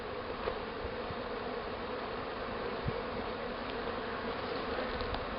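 Honeybees droning steadily around a hive during hive-top feeding, a dense, even buzz throughout with occasional louder passes of individual bees close by.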